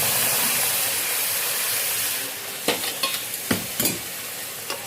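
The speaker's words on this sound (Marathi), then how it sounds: "आता पाणी घालायचं आहे, गरम करून ठेवलं आहे ते त्याच्यात" Hot water hitting roasted semolina cooked in homemade ghee, a steady frying hiss that softens, then a few sharp sizzling bursts and crackles as the water splashes into the pan.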